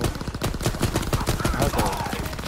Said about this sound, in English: I'm guessing this gun is similar to the FAL. It's a single shot rifle.